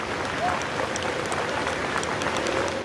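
A Paris crowd applauds steadily as Jacques Chirac's funeral convoy heads to the church of Saint-Sulpice, a dense, continuous patter of clapping with scattered voices mixed in.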